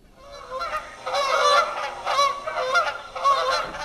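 Geese flying overhead honk repeatedly in loose bursts, several birds calling over one another, fairly close and clear with no talking.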